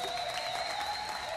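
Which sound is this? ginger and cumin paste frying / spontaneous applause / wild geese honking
spontaneous applause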